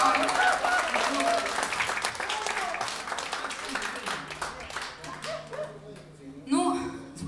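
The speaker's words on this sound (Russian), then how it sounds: "Давайте, кстати, аплодисмент." An audience applauds at a live stage event, dense clapping that is loud at first and then fades, with voices talking over it and a brief renewed burst near the end.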